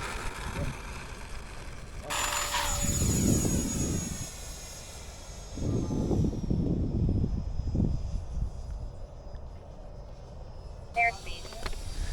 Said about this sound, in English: C-130 doing a loop.